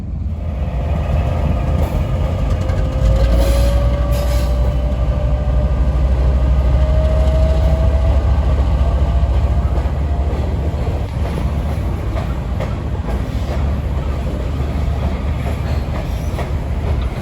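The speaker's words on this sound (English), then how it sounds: "This is an empty coal train with a C44-9W" An empty Norfolk Southern coal train led by a C44-9W locomotive rolls past close by, with a steady loud rumble of wheels and cars and a brief squeal, and no talk.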